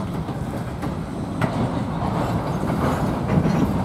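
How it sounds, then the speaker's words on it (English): CN freight train cars rolling past outdoors on a cold day, a steady low rumble with faint rhythmic wheel clatter, close and continuous with no talking. "There's the rest of the train."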